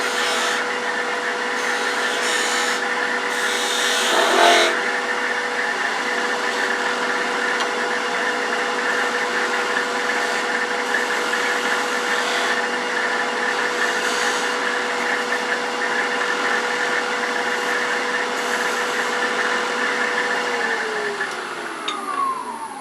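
A wood lathe spins while a tool cuts a V into a magic wand handle, a steady, loud whirring drone held for the whole stretch, with a brief cutting swell early on and the motor winding down at the end.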